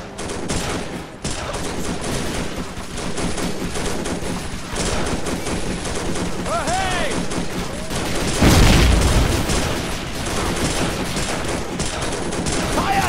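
Dense gunfire and battle fire from the World War II strategy video game Faces of War, with steady overlapping shots and a louder burst near the end, joined by brief shouted speech.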